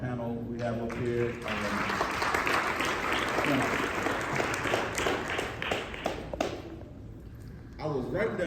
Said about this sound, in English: Give a round of applause for our panel we have up here.